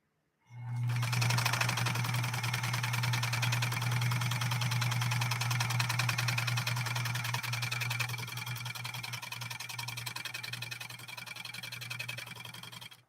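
A Pfaff 130-6 sewing machine stitching material, with a loud steady hum and a rapid mechanical needle clatter that starts abruptly and runs without pause, close up and alone.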